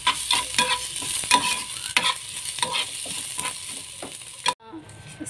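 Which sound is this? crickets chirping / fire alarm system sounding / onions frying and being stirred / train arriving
onions frying and being stirred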